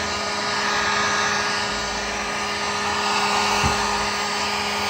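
Hot air blowing steadily on a Corvette C4 ECM circuit board during repair, a continuous close airy hiss with a faint hum, running alone at even loudness.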